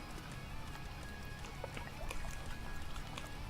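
Water sound effect previewed on a stream's sound-command page: a steady rushing, splashing flow at moderate level throughout, with small irregular splashes and a faint tonal hum underneath.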